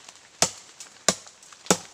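A hard bamboo stalk is struck to test its sound, giving three sharp, dry, hollow knocks about two-thirds of a second apart, fairly close and alone, with faint softer taps between them.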